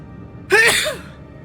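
One loud, close sneeze bursts out sharply with a quick intake, rings briefly and fades, alone against a faint background in a Hogwarts Legacy game scene.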